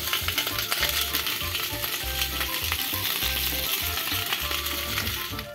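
Food browns in a hot pan with chile and tomato, a dense, steady sizzle and crackle filling the scene at close range with no voices over it.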